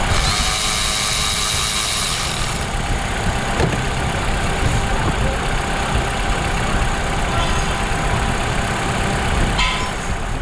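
A car engine idling roughly with a cylinder misfire, a steady close rumble with uneven low pulsing, a brief clank partway through, and a spark-plug coil unplugged on one cylinder.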